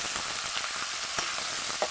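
Tomato frying in oil in a pan, with mustard seeds and potato, while cooking a sour fish curry: a steady close sizzle runs throughout, with a few small pops and crackles.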